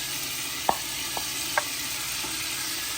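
Onion and tomato frying in a pan while being stirred, a soft continuous sizzle with a few faint scraping taps of the spoon, quiet and close.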